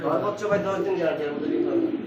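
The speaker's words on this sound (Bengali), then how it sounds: "এটা হচ্ছে ইন্ডিয়ান সেই লটন কবুতর দর্শক ডাক দেখেন নরে ডাক দিয়েছেন" A male Indian Lotan pigeon coos steadily throughout, the low cooing close by and mixed with someone talking over it.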